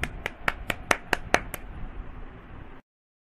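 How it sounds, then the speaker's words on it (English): Hands clapping eight times in a quick, even rhythm, sharp and close, then falling silent. "clap hands"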